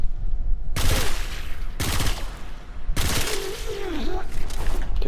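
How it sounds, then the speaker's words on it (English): Hyper-fast pistols in a video game fire in three dense, rapid bursts, loud and close, separated by short gaps. A voice talks under the gunfire. "it seems like a pair of hyper fast firing pistols that you can tab fire"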